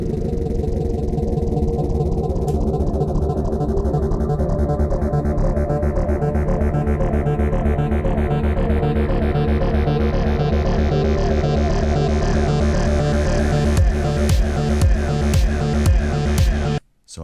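Electronic song's slowdown transition built on an arpeggiator, a loud, dense throbbing synth pattern with a sweeping filter that rises steadily in brightness, then cuts off abruptly at the end.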